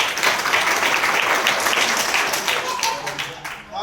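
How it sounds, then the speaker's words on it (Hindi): A crowd at a public event claps for children, giving steady, dense applause that continues throughout, with voices mixed in beneath. "उनकी तालियां बजाता हूं"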